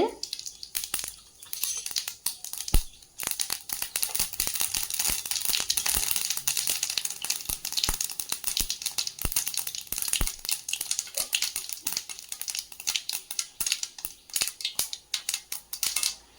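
Mustard seeds sputter in hot oil for a baby potato fry, a dense, close, continuous crackle of rapid sharp pops and snaps with no pauses.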